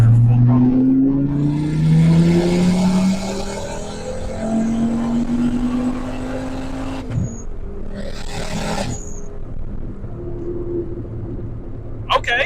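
A car engine in third gear pulls at full throttle from about 2,500 RPM, its note rising steadily and loud throughout, with a brief break midway and people talking over it.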